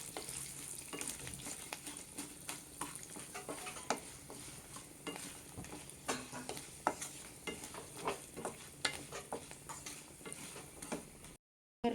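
Dry red chilies, slit green chilies and curry leaves frying in hot oil, a close, crackling sizzle with irregular pops and spatters, plus occasional stirring scrapes, ending in a sudden cut to silence.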